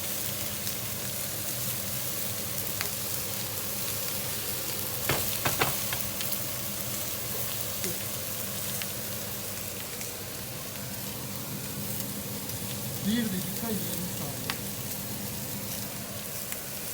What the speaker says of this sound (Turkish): Et pişirmek bence güzel. Şu an pişiyorum. Zehir zehir pişiyor.